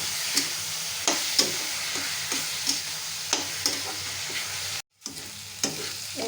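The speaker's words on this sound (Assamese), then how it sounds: "পিঁয়াজৰ পেষ্টখিনি ইয়াতে এতিয়া মই দি দিছোঁ। এইখিনি ভালকৈ লৰাই ল'ম।" Onion paste sizzles steadily in a hot pan while a spoon stirs it, with repeated scraping clicks over the continuous fry and a brief dropout near the end; no talking.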